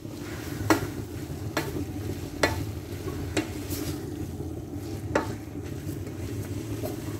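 Grated radish and spices cook in a pan for mooli paratha filling, a low steady sizzle broken by occasional sharp spoon taps and scrapes at a slow, uneven pace.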